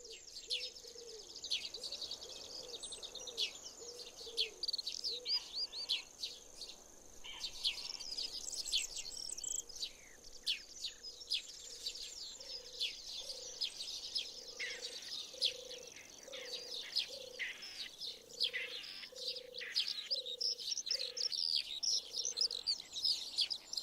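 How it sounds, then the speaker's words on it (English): A grasshopper warbler sings in an English hay meadow, perched on a creeping thistle. A sustained high insect-like reeling trill runs throughout, alongside other chirping birds and a repeated lower call, all at moderate, steady distance. "This plaintive song belongs to the grasshopper warbler, clinging to the side of a creeping thistle."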